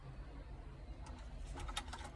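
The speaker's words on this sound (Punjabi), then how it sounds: "ਲਿਆਂਦਾ ਇਹਦੇ ਲਈ ਕਬੂਤਰ ਨਵਾਂ ਦੇਖੋ ਬੈਠਾ" A pigeon coos softly in a rooftop pigeon loft, low murmuring calls that are faint and close, with quiet ambient noise around them.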